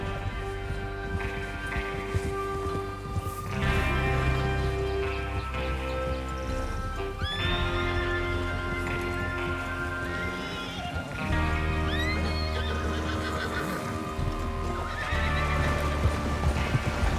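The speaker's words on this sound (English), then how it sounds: "Get your horses ready." Horses whinny repeatedly over steady hoofbeats and a thick bed of music in Red Dead Redemption 2, with several loud neighs rising and falling across the stretch.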